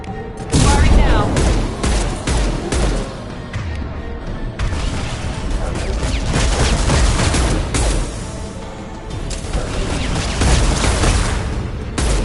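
Weapons firing in the sci-fi shooter Mass Effect 2: loud, dense volleys of gunshots and booming blasts in irregular bursts, with voices speaking over the combat throughout.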